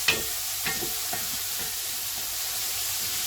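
Chilli con carne being stirred in a one-pot cooking session, with a faint steady sizzle and a few soft scraping strokes of the spoon against the pot.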